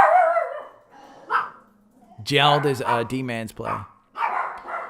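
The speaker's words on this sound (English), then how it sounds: "There's the dogs." Several dogs bark and yip nearby in loud bursts, mixing with a man's speech as people talk over the noise.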